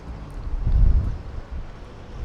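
Strong gusty wind buffets a microphone fitted with a wind muff outdoors in Welling, London, a low rumbling roar that swells to a peak partway through and then eases, steady and close, with no talk.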